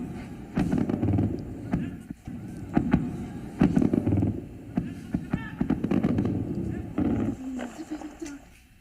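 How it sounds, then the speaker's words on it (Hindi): Repeated explosions boom in Kapurthala, several dull blasts and sharp cracks spread across the scene at a distance, with people talking in the background. "जहां धमाकों की आवाज आप सुन सकते हैं"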